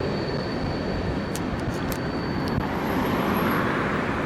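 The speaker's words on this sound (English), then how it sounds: "I hear that train a-coming. It's rolling over my head." A train rumbles steadily overhead as a cyclist rides beneath the tracks, a dense low roar with faint high squeals of wheels on rail.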